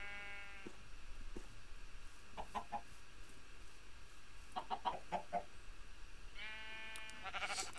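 Chickens in the video game Minecraft cluck in short, separate bursts, a few sparse calls scattered across a quiet background with no talking.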